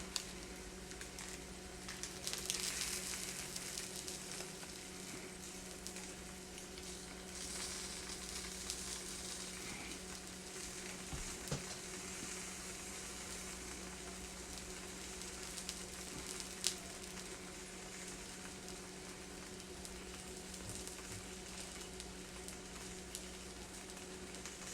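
Grilled cheese sandwich frying in a pan, cooked until crispy: a steady, close sizzle with soft crackle and spatter that continues without a break, no voices over it.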